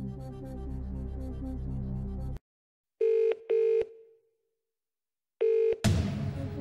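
Telephone sounds for a phone-a-friend call in the Who Wants to Be a Millionaire DVD game: music cuts off, then two short electronic ring bursts, a pause, and a third ring that runs into a swell of music.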